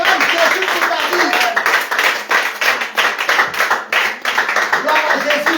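Congregation at a revival church service in Bondoukou, Côte d'Ivoire clapping and cheering in praise, a dense, steady wash of many hands with raised voices mixed throughout.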